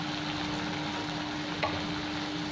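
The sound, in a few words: spices (Kashmiri chilli powder, coriander powder) frying in oil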